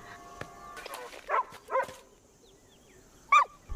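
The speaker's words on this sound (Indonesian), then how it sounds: "hal itu diketahui oleh anjing Murti yang menggonggong" A dog barks in a scene from the Indian film Nayattu, a few sharp barks clustered near the start and another single bark later, fairly close and clear over a quiet background.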